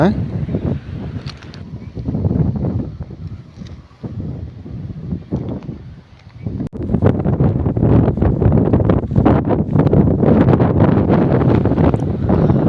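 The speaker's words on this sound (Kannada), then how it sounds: "ಸದ್ಯ ಈ ಗಾಳಿ ನನ್ನನ್ನು ಒತ್ಕೊಂಡು ಹೋಗದೆ ಇದ್ರೆ ಸಾಕಾಯ್ತು" Strong gusts on a hilltop at Kemmannugundi's Z-point, India, buffet the microphone with loud, roaring wind noise, easing briefly before blasting harder again.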